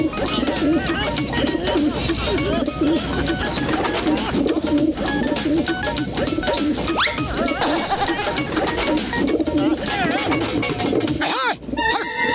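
Pigeons cooing in a Motu Patlu cartoon, repeated throaty coos over a busy, loud soundtrack with cartoon voices and effects, ending in a short crash.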